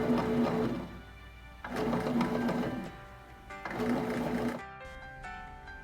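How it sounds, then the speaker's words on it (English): A bread machine kneads dough made with dry yeast for fresh-cream loaf bread, its motor whirring in three steady bursts of about a second and a half each, separated by short pauses, close and moderately loud. "then let the bread machine do its magic"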